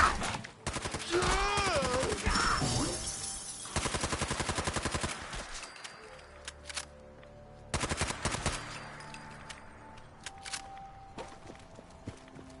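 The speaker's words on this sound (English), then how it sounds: "When the bullets start flying." Gunfire erupts in a Fallout video game firefight against trappers: rapid bursts of shots and automatic fire come in dense volleys, then ease into scattered single shots and a few later bursts, with brief game voices early on.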